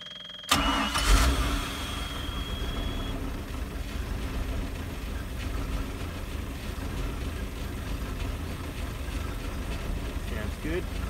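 A Mercruiser V8 boat engine turns over with a brief crank and catches, then settles into a steady, low, rumbling idle that continues throughout, heard close up.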